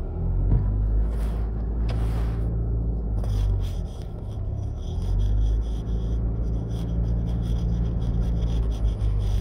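Steady low road rumble and engine drone from a car driving around Jamaica past construction, continuous throughout with faint scraping and rattling on top, no talking.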